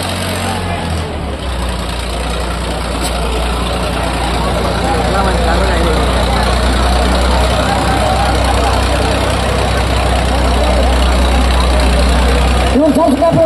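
Tractor engine running loud and steady at a crowded village tractor pulling contest, a continuous low diesel drone filling the scene with crowd noise behind it.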